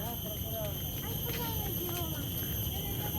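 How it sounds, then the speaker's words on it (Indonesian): Horse hooves clip-clop in a steady rhythm at a park, fairly faint under constant outdoor background noise and people talking nearby. "Tuh, ada kuda."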